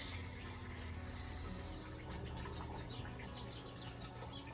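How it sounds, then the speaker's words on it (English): An aerosol can sprays varnish over a laser print in a steady, close, loud hiss that lasts about two seconds and then cuts off, leaving faint rustling and room noise. "all I'm going to do is I'm just going to give it a quick spray"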